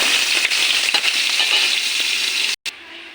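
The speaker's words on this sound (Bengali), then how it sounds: "এখন কেটে রাখা বেগুনটা ভাজা করে নেব" Sliced eggplant frying in a pan gives a steady, dense sizzle close by with faint crackles, breaking off briefly near the end before a quieter hiss resumes.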